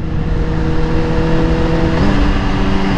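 A Kawasaki Z1000 motorcycle on a dyno runs at a loud, steady high-rev drone, its engine tone holding level and then shifting pitch slightly partway through as the gear changes.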